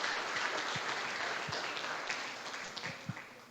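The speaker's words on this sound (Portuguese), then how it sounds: "Levante um aplauso ao Senhor que é santo." Church congregation applauding during worship, a steady wash of many hands clapping at moderate distance, with a few louder individual claps standing out.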